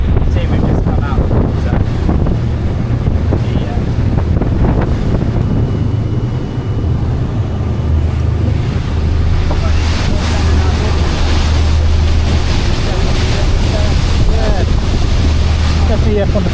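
A motorboat runs fast over water, with a steady engine drone, heavy wind buffeting and spray slapping the hull throughout.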